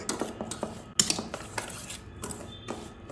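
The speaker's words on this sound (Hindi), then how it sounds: "पहले अच्छे से मिक्स कर लेंगे दही में सूजी को।" A metal spoon stirs semolina into yogurt in a bowl, giving repeated scraping clinks and taps against the dish at an uneven pace, close up and fairly quiet, with no talking.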